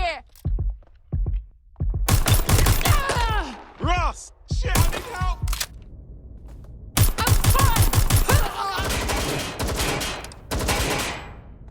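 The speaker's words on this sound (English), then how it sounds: "I'm getting shot at here!" Rapid bursts of gunfire and heavy impacts from the video game Watch Dogs: Legion, loud and close in clustered volleys separated by brief pauses, with shouted voices mixed among the shots.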